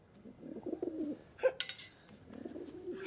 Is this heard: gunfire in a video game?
no